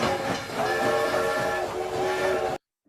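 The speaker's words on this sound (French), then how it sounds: "J'ai mis cet extrait de film juste pour entendre le sifflet de la locomotive" A steam locomotive's whistle sounds in a film excerpt, a loud sustained tonal blast with a hissing edge. It holds for over two seconds and cuts off abruptly into silence.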